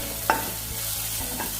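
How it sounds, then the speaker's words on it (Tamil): Lightly sautéed onions and a small tomato are added to a hot pan for radish chutney. A quick spoon stir scrapes the pan over a soft, steady sizzle. "லைட்டாக வெங்காயம் வதங்கினையும் 1 சின்ன தக்காளியும் எடுத்து வச்சுருக்கேன்"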